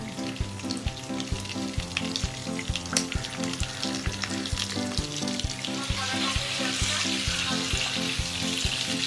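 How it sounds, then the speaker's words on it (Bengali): Prawns frying in a pan over low heat, with a loud, steady close-up sizzle throughout and a rhythmic clicking as the prawns are turned and stirred, no voices. "চিংড়ি মাছগুলো আমরা দেখতে পাচ্ছি যে ভাজা আস্তে কমপ্লিট হয়ে আসছে"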